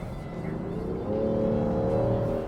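A 2024 Land Rover Defender 130 with the P400 powertrain accelerates on a paved road, its engine a steady, smooth hum that swells and rises slightly in pitch, heard from inside the cabin.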